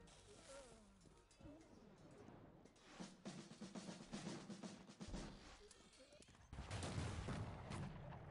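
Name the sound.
chasseurs firing muskets in the video game Cossacks 3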